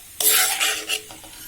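Cashews, almonds and raisins fry in hot ghee in a pan, giving a loud, close sizzle with a scraping stir that fades after about a second.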